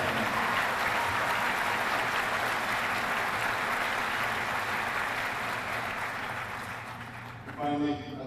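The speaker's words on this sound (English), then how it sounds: "please join me in a big round of applause for the families of our family" Sustained applause from a large crowd of families at a Marine Corps recruit graduation for Bravo Company, steady and dense throughout before tapering at the end as a voice comes in over it.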